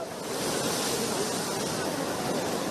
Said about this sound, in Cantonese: 大浪衝上10米外嘅行人路